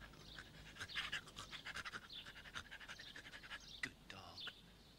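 A dog pants rapidly and rhythmically up close, the quick breaths rising and falling at moderate volume, with a short whine or bark near the end and a voice present.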